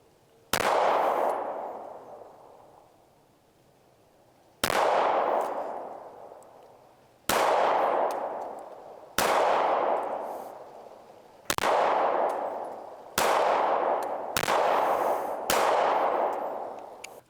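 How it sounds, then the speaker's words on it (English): HK CC9 micro-compact pistol fired at a shooting range, seven sharp loud shots spaced irregularly a couple of seconds apart, each with a short decaying echo, no talking. "that's going to finish this box and also put us just around, maybe a little bit under 600 rounds total for this gun"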